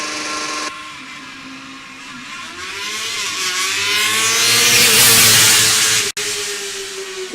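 Eindhoven Formula Student race car accelerating hard while held in second gear, engine note rising steadily to a loud peak and then cutting off abruptly near the end.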